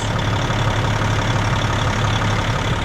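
Dump truck diesel engines idling side by side, one fitted with twin turbos, a loud, steady, close rumble with a constant low drone and no voices.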